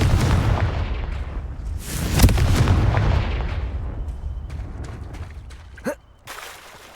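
Confringo fire spells burst in loud, booming explosions during combat in Hogwarts Legacy. A dense roar of blasts dominates the first few seconds, then fades into a quieter tail with a sharp whoosh near the end.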